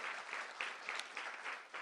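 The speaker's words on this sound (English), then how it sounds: "please give them a huge round of applause for all the work that they're doing" Symposium audience giving a round of applause for the organisers, a faint, steady patter of clapping from a modest crowd with soft pulses throughout.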